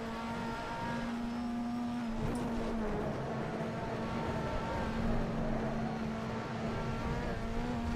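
A BTCC touring car engine in the racing sim rFactor 2 drones with a steady, buzzing harmonic note at high revs, held fairly constant and close, with no talk over it.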